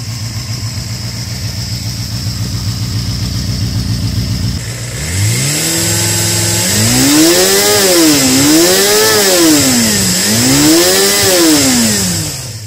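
A Suzuki GSF 250 Bandit roadster carrying the four-cylinder engine from the GSX-R 250 idles with a steady patter, then revs sharply several times in rising and falling sweeps, loud and close with no talk.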